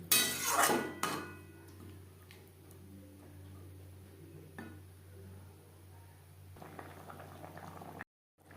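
A potato curry gravy thinned with water simmers quietly in a pot, giving a faint, steady bubbling after a brief clatter of utensils at the start, ending with a short cut to silence.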